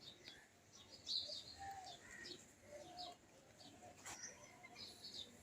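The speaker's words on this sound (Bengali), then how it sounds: "ওই যে পায়রাগুলো এসে গেছে" Soft pigeon coos repeat close by amid light chirps and faint background noise, no one speaking.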